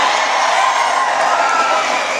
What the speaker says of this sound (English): Boys, clap.